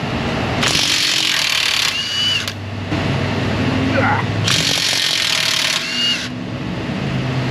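Impact gun breaking loose a strut bolt on a car, two sharp loud bursts of rapid hammering about four seconds apart, close up in a workshop.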